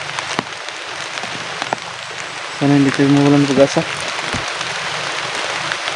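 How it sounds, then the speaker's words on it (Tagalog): Heavy rain makes a steady, loud hiss with scattered drops throughout, while someone speaks briefly over it. "Malakas ang ulan."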